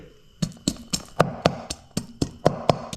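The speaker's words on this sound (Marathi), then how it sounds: "लसूण ठेचून घेतोय" Garlic crushed by hand beside a reservoir during crab cooking: eleven sharp, evenly spaced pounding thuds in a steady rhythm, close and clear, with no talking.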